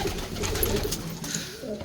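Ornamental pigeons coo in low, rolling murmurs close by, a continuous soft burbling with no voices.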